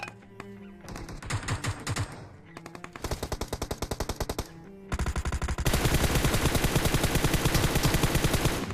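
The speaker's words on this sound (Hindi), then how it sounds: "मेरे को कुछ फायरिंग के साउंड आए" Heavy automatic gunfire in PUBG Mobile, with rapid bursts of shots that swell into a loud, continuous stream of fire with layered weapons near the end.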